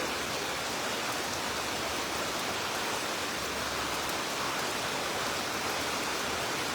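Heavy rain pours in a steady, dense hiss with no breaks, loud and close, with no voices heard.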